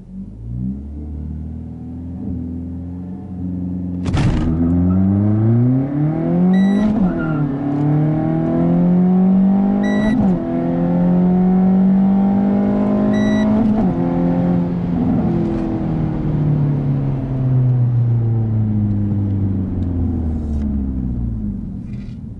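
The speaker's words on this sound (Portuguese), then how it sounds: "Vamos ver qual que é o 0 a 100 do carro." A Renault Sandero RS with a 150 hp engine accelerates hard in a 0-100 km/h run. The loud engine drone climbs in pitch, drops at each of three quick gear changes, then climbs again for about twenty seconds.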